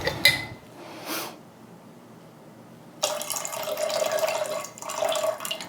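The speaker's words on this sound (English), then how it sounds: "next we're gonna do 1 ounce of our lime juice" Lime juice poured for a cocktail at a home bar: a short clink and splash, a pause, then a steady liquid stream running for a few seconds close by with a brief break; no speech.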